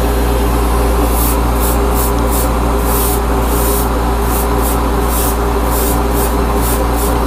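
An airbrush spraying Tamiya acrylic paint thinned with Tamiya acrylic thinner onto a 1/100 MG Gundam Dynames model hisses loudly and continuously, with short repeated bursts over a steady hum, close up and without speech.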